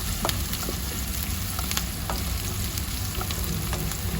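Onions fry on a low flame in a pan, turning golden brown as the base for an okra and peanut fry. A dense, continuous close sizzle carries faint crackles throughout, with no voices.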